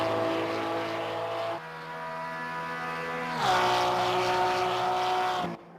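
A Porsche GT2 race car engine in a racing game drones steadily and loud, with rising pitch through the gears and clear shift drops, close and continuous until it cuts off at the end.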